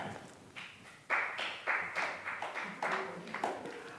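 A small audience claps in loose, uneven bursts for several seconds during a comedy show, the slaps moderately close and fairly quiet.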